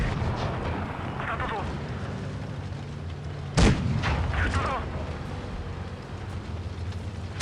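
Tank cannon fire in the World of Tanks Blitz mobile game during a battle against a Maus: one sharp loud boom near the middle over a constant rumble of engine and battle noise, with fainter impacts around it.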